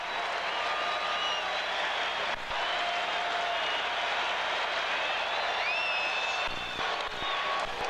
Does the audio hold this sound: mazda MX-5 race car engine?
no